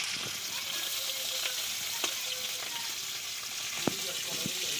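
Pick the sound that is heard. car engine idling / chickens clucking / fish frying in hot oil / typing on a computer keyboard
fish frying in hot oil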